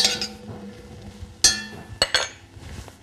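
A spoon clinks against a pot while stirring drained food with salt, butter and pepper, with several bright metallic taps and scrapes close by, some spaced apart and some in a quick cluster.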